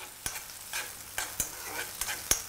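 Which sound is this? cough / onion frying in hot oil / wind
onion frying in hot oil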